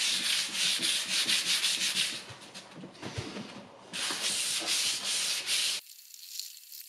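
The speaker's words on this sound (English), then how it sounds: "I'm going to use 320 grit sandpaper just to sand everything smooth" Steady scratchy rasping of 320 grit sandpaper rubbed back and forth by hand over painted furniture, in long continuous bursts with a short pause, close up and fairly loud.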